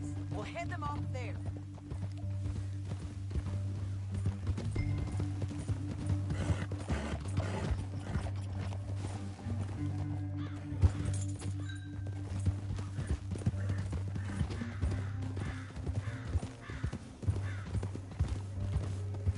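Horse hooves clip-clop at a steady rhythm in the video game Red Dead Redemption 2, sounding close and moderately loud over a low droning music bed, with an occasional whinny and voices heard.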